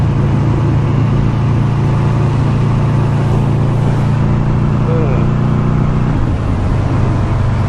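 A Buell motorcycle engine rumbles steadily and loud throughout, with wind noise from riding pressing over it and a low droning tone that shifts slightly near the end.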